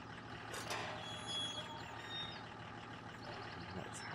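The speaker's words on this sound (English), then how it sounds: "I'm going to leave the engine running this time because I want to be able to move the car if necessary." A vehicle's engine idles steadily in Farming Simulator 17, a continuous low mechanical hum with faint high tonal bleeps and hiss layered over it, no talking.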